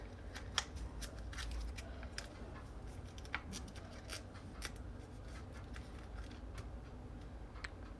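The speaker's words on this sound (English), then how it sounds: "Trim your tag end down." Scissors snip a fishing line tag end while tying a short hinged stiff carp rig, giving a series of sharp, close, quiet clicks and snips spread irregularly over a faint steady background hiss, with no voices.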